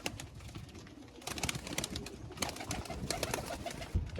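Pigeons coo softly amid rustling and light clattering, a busy close-up bird sound with no talking.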